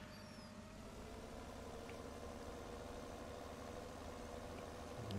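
A tractor engine idles steadily in a farming video game, a continuous low rumble with no talk over it.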